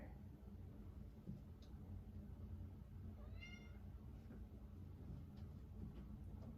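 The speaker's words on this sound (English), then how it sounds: "My cat always wants to join the yoga party." A single soft, brief meow from a house cat during a quiet indoor yoga class, faint and slightly distant against low room hum.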